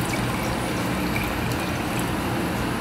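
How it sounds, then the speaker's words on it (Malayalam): Water is poured into a container of sugar for a Kannur kitchen recipe, a steady close splashing pour without speech. "നമ്മൾ പഞ്ചസാരയിലിട്ട് വെള്ളം ഒഴിച്ച് കൊടുക്കാൻ"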